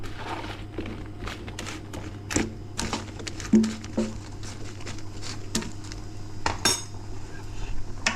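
Vegetables are mixed with herbes de Provence and bay leaf in a dish, heard as repeated sharp clicks and clatters of a utensil against the dish at an irregular pace, fairly close.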